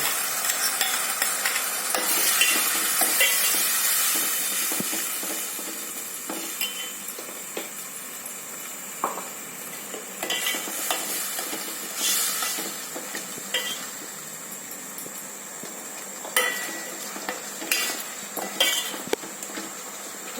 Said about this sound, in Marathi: नंतर हे आपलं केलेलं वाटण आहे ते पूर्ण टाकून घ्यायचं